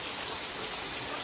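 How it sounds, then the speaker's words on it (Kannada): Rain falling outside a house in Pajeer, a steady, even hiss of drops that fills the whole short stretch with no voices. "ಮಳೆ ಬರ್ತಾ ಉಂಟು."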